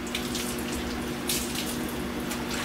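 Water runs steadily from a tap indoors to wet and wash a scuffed fiberglass truck cap before painting, a continuous close hiss with a faint background hum.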